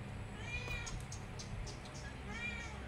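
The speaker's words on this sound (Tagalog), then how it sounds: "Yan naman yung pusa ko." A pet cat meows twice, once early and once near the end, each call a clear rising-falling cry over a steady low background hum.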